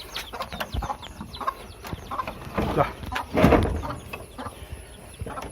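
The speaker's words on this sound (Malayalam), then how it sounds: "ഒരു കോഴി ഇതിനകത്താണുള്ളത്" A brooding hen clucks softly and grumbles nearby, with a few rustling movements and a louder burst of agitated clucking midway.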